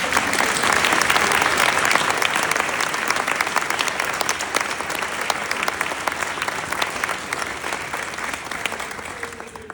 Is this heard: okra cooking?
no